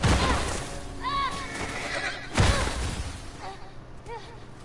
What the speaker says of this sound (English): They shot the fuck out of my horse.